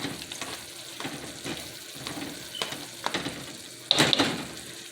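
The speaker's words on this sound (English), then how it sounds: "now that's frying real good, coming to a boil" Food sizzles and crackles steadily in a hot pot of green chicken chile white bean soup coming to a boil, with occasional stirring scrapes and a sharper clatter near the end.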